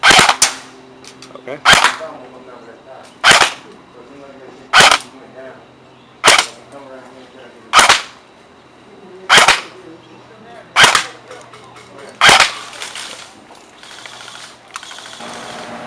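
Redfire HK M4A1 airsoft rifle firing 0.25 gram BBs: ten sharp, evenly spaced single shots about 1.5 seconds apart, loud and close, with a brief spoken word near the start.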